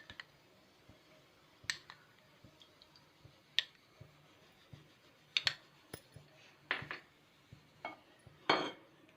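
Scattered metallic clinks and scrapes of a metal cooking pot being moved and set down, sparse and close, in a quiet room.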